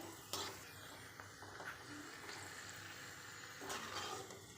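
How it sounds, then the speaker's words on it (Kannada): Papad (happala) frying in hot oil, a steady close sizzle with soft crackling and a few brief bursts of bubbling, no voices. "ಎಣ್ಣೆ ಕಾದಿತ್ತು ಹಾಗಾಗಿ ಇದ್ರೊಳಗೆ ಹಪ್ಪಳ ಕರ್ಕೊಳಕತ್ತೀನಿ"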